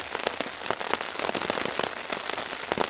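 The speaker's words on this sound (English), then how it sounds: "this rain's starting to get quite a bit heavier" Heavy rain pours steadily over a wilderness campsite, a dense, close hiss of drops with sharp individual taps spattering throughout.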